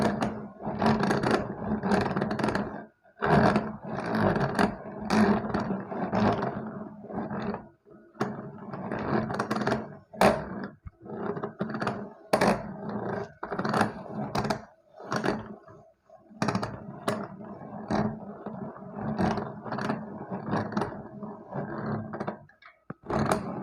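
Hand-cranked yarn ball winder turning as yarn winds onto it, a steady run of rhythmic mechanical whirring and scraping with short pauses between cranking bursts, close and fairly loud.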